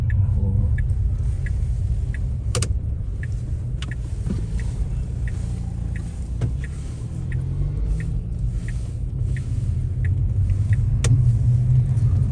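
Tesla Model S driving on an unlit road at night: steady loud low road and tyre rumble from inside the cabin, with faint ticking clicks throughout and a few sharper knocks.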